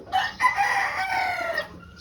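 A pure white straight-comb Kelso chicken gives a single loud, close crow lasting about a second and a half, standing alone with no talking over it.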